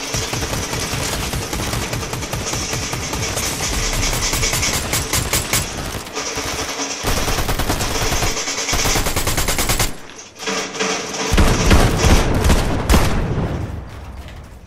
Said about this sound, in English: They are both shooting me.